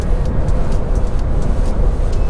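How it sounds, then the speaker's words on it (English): A 2013 Scion FR-S with a four-cylinder boxer engine is driven, its low growl and road rumble heard steadily from inside the cabin. "Most of it's the engine noise. But because it's a four-cylinder boxer, it gives it a great little growl."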